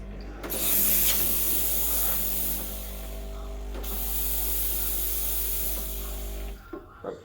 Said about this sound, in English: You can make coffee and steam your milk